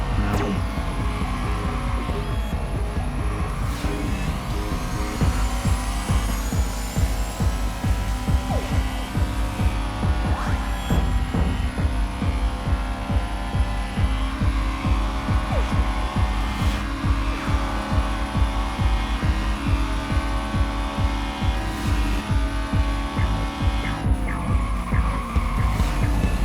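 Tyres skid and squeal as a car drifts through a corner in the Acceleracers racing game, a loud sustained engine drone with rising and falling screeches running continuously, no talking over it.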